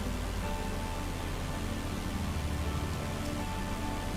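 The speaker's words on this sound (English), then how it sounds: "There's that rainstorm with the rainbow." A steady wash of rainstorm noise in Microsoft Flight Simulator 2024 runs unbroken and fairly loud, a dense hiss of falling rain with a low rumble beneath.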